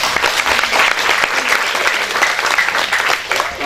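Loud, dense applause from an audience in a university lecture hall, continuous clapping that stays strong for several seconds, close and without talk.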